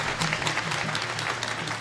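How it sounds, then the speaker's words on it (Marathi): Steady applause from an audience at a religious discourse gathering on Chaitra Purnima at Shri Kshetra Narayanpur, a dense, continuous patter of many hands clapping throughout without pause. "पुन्हा एकदा टाळ्या वाजून त्यांना आशीर्वाद द्यायचा आहे"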